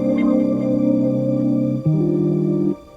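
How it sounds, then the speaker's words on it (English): A Triton synthesizer string patch holds two long, smooth sustained chords in sequence, with a brief change between them before the sound fades out. "This is a string patch from Triton,"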